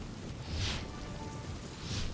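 Heavy monsoon rain falling in Tapi district, Gujarat, a steady broadband wash of downpour with swells in intensity and no voices present.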